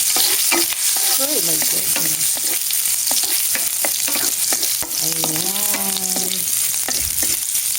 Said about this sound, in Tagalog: Tayin lang natin maging golden brown ang ating bawang.